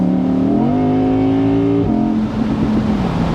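A 612 bhp Audi R8 V10 Performance Spyder accelerating hard, its loud, close engine note climbing steadily through the revs, then dropping sharply at a gear change before pulling again.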